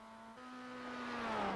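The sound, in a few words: red Mazda MX5 race car driving at Nürburgring Nordschleife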